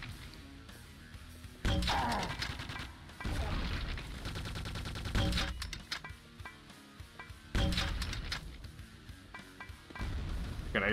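Grenade launcher and other weapon fire in Quake II: Ground Zero, coming in several loud separate bursts of explosive shots with short gaps of quieter game noise between them.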